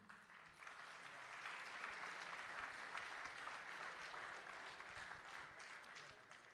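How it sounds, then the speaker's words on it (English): Audience applause from a crowd at a business cup opening ceremony, sustained and fairly even clapping with no voices over it. "which is a big applause from all of you."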